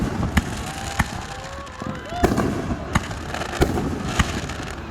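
A live fireworks display in Boxholm, Iowa, with sharp bangs every second or so, some rising whistles between them, and a constant crackling background.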